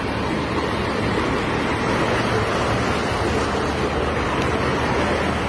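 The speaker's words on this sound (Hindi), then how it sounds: "नदियों का पानी उफनकर सड़कों पर और रिहायशी इलाकों में आ गया है" Floodwater from overflowing rivers surges through streets and residential areas during early monsoon rains, a loud, continuous rushing roar with no break, heard alone.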